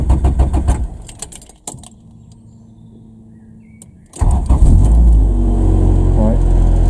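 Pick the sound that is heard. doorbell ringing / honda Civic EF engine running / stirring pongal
honda Civic EF engine running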